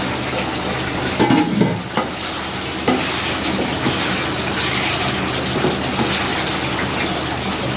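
Desi country chicken bhuna, spicy and hotel-style, stir-fried in a pan with a little water: a steady close sizzle under spoon scraping and stirring, with a few louder stirs, and no talking.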